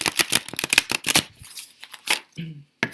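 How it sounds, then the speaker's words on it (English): Tarot cards being shuffled, with quick riffling and soft slaps heard beneath close, ongoing talk from a person. "I should be shuffling these in front of you"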